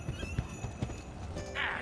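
A horse in the Pirate101 video game clip-clops with a few distinct hoof beats, then gives a short, bright whinny at the end, with a voice talking underneath.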